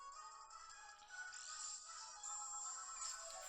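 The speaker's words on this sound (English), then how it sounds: "my phone's been going off every like 5 minutes while I'm trying to record" A mobile phone rings quietly with a high, tonal electronic melody that continues steadily without pauses during a Pokémon VGC 2017 game recording session.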